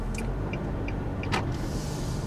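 A car rolls down a long winery driveway with a steady low engine rumble and road noise, and a few faint clicks and a brief whoosh pass over it.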